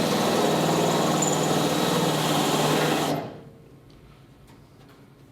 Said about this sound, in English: We'll drill that first one out